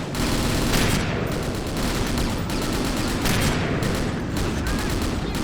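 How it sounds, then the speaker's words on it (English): Sustained gunfire from the World War Zero (Iron Storm) video game, with dense overlapping bursts that keep up loudly and continuously throughout. "Someone's shooting at me."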